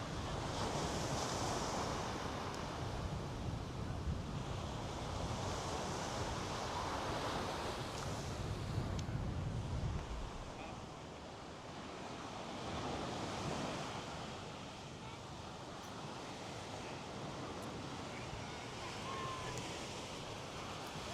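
Surf rolling onto South Beach in Miami in rough, windy conditions, a continuous broad wash of breaking waves with wind rumble buffeting the microphone, heavier in the first half.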